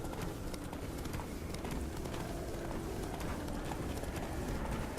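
Horse hooves galloping in The Witcher video game, a steady rapid clip-clop of hoofbeats running continuously under a dense, constant layer of outdoor game ambience.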